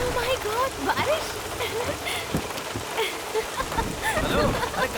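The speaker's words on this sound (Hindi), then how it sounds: "Oh my God, बारिश।" Steady rain patters on a surface throughout, with people talking over it.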